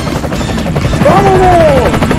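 A Roblox game helicopter drones steadily with a loud, constant rotor rumble, while a brief rising-then-falling tonal whine sweeps over it midway.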